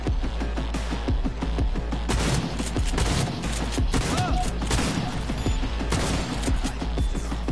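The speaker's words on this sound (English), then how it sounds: "They just get shot by a shotgun." Shotgun blasts in the video game Cyberpunk ring out in rapid, loud bursts amid a dense, continuous barrage of in-game gunfire and booms, with no talking.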